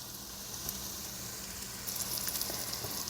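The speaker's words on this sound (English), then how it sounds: "let it saute a little bit." Ingredients for a fresh pasta sauce sautéing gently in a pan on lowered heat, a steady soft sizzle and crackle with faint popping, continuous and close, with no talking.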